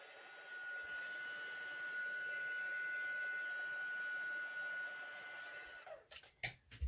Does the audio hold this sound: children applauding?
no